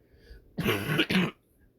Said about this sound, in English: I would turn down your volume a bit if I cough anymore.